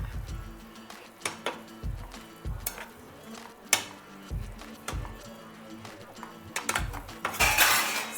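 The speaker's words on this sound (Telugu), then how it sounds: "ఇప్పుడు మనం కింద నుంచి పైకి పుష్ చేయాలి. పన్నీర్కి అంతా గ్రేవీ అతుక్కోవాలి." A spoon scrapes and clinks against a pan, stirring paneer cubes through curry gravy in irregular knocks and taps, with a person talking quietly between the strokes.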